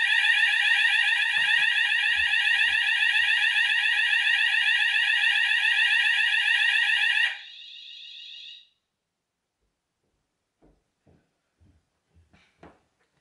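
A loud continuous electronic fire alarm tone from a Hochiki sounder blares, drops to a quieter Notifier system tone, then stops, leaving near silence with a few faint knocks.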